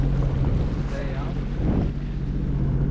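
A Sea-Doo Wake 170 personal watercraft with a 170-horsepower naturally aspirated engine runs on water, a loud rumbling drone mixed with wind buffeting and splashing, fairly close.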